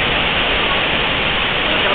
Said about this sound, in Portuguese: Muita chuva, chove muito nesse momento.